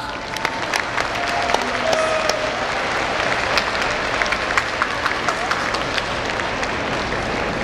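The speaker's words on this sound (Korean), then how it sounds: "큰 박수 부탁합니다." A crowd at the 38th Saeol writing contest gives loud applause to honor library and lifelong-learning staff, sustained dense clapping with a few sharper individual claps and faint voices beneath.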